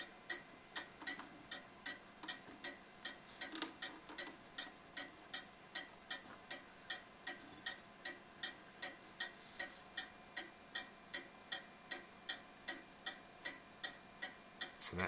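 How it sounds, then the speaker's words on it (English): A pendulum clock ticking in beat after its pendulum is adjusted: a crisp, evenly spaced tick-tock that repeats steadily throughout, close and fairly quiet, with no talking. "I'm now going to move it back and see if we can get it into beat so you can hear the difference."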